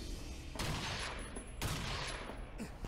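Rapid gunfire bursts in the Binary Domain shooter game, two dense volleys of fusillade-like shots overlapping with a steady, loud battle din and no talk.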